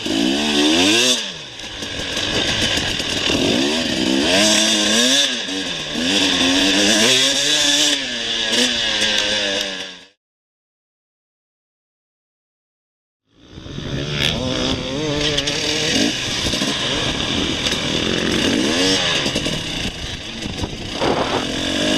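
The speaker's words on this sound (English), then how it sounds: "The 300 has gobs of power for the sand wash" KTM 300 two-stroke dirt bike ridden hard through a sandy desert wash, its engine revving loud and close with rising and falling pitch, cutting out for a few seconds midway before snarling back up.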